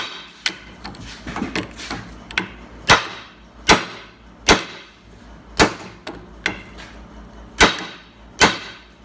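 Sharp metallic taps on a stuck bearing held on a Polaris Ranger crew center shaft, about ten distinct strikes at an uneven, roughly steady pace, close and clear with faint ringing between hits.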